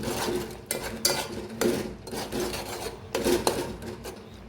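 A spoon scrapes and knocks around a pan while ridge gourd curry is mixed, with irregular rasping strokes and several sharper clanks against the metal, close and fairly loud.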